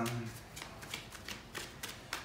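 Oracle cards being shuffled by hand, a run of soft papery riffles and slaps repeating at a quick, uneven rhythm, close up, with a brief low voice murmur at the start.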